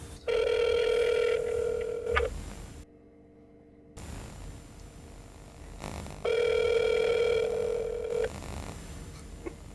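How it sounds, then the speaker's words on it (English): A telephone rings for a call, two long electronic ring bursts separated by a silent gap and a stretch of low room noise, no voices. "I need to make a very important phone call."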